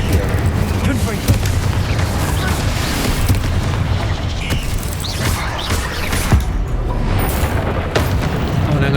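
Confringo fire spell blasts in Hogwarts Legacy, loud booming explosions and bursts layered over continuous game noise, with a player's voice speaking over the action.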